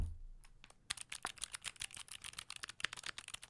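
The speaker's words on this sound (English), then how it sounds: "Was that a keyboard with silent switches?" Rapid clicky keystrokes on a mechanical keyboard, close and fairly crisp, starting after a short quiet pause and continuing in an uneven typing rhythm.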